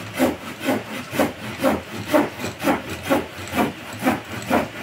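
A folding handsaw cuts wood on the pull stroke in a steady rhythm of about ten strokes, each stroke a loud scraping burst, close and alone.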